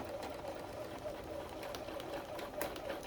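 A sewing machine chain piecing half square triangles runs with a steady, fast mechanical whir and needle rhythm, moderately close and continuous.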